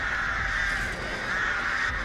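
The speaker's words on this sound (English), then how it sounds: "If you get a direct hit with a bird, it hurts him." Crows cawing in the video game Dead by Daylight, the Artist's birds, a dense overlapping chorus of harsh caws sounding continuously and loudly up close.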